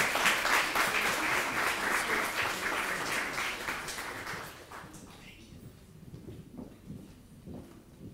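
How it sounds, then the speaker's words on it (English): Audience applause for a discussion panel at a talk on Black communities, steady and fairly loud for about five seconds before fading into room noise with scattered claps. "another round of applause, please"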